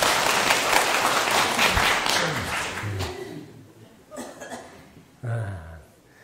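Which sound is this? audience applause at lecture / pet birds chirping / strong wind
audience applause at lecture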